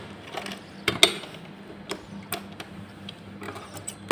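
A sewing machine stitches the lining fabric of a salwar, giving irregular mechanical ticks and clacks with a low motor hum, close and fairly quiet, no speech.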